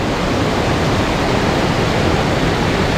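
Steady, dense roar of falling water from Ladder Creek Falls on the trail at Newhalem, Washington, in North Cascades National Park, continuous and loud throughout with no voices.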